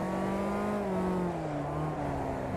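Race car engine under throttle in Automobilista 2 through a long sweeping right-hander in third gear: a loud, close, sustained engine note with clear harmonics that dip and rise gently as the throttle is worked, no talk.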